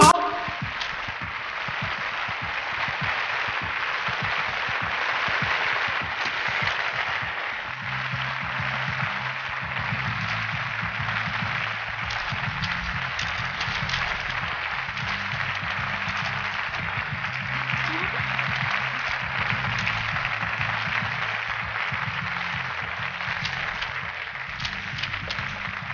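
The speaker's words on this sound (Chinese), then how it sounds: "让我们用最热烈的掌声，有请今晚的主人公夜盲登场。" An audience gives sustained applause to welcome the guest of honour at an evening event. A dense wash of clapping runs for about half a minute, and soft music plays beneath it.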